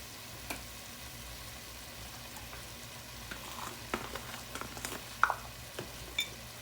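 Ground beef sizzles faintly in a pan while being stirred, a steady low frying hiss broken by scattered scraping and stirring clicks, with no one talking.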